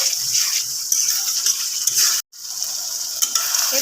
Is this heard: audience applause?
no